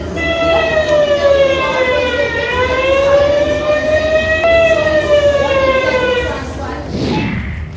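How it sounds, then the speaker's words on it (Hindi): A loud, steady civil defense air raid siren rises and falls slowly in pitch during a drill in India, sounding continuously for several seconds before fading near the end. "सायरन बजने की ट्रेनिंग"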